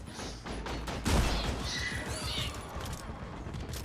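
A sentry turret fires in Deep Rock Galactic, a dense, continuous rattle of automatic shots running under busy combat noise, with one heavier thump partway through and a faint voice in the background.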